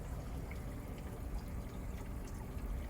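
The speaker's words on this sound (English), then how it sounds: "We should start hearing the trickle." Water trickling steadily through an aquarium overflow during a water change, a soft continuous splashing and gurgle, faint and close with no talk.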